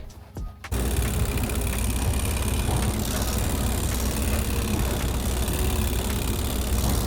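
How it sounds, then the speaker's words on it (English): A lawn edge trimmer runs on a cruise ship with a loud, steady motor drone and whirr. It starts abruptly after a quiet moment and keeps going without a break. "That's how they trim the edges of the lawn."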